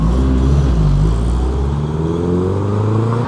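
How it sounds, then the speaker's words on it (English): Porsche GT race car pulling away from a cars and coffee meet, its engine a loud rising drone as it accelerates through the gears and then recedes slightly, with no voices. "here's Jordan leaving with the GT race car"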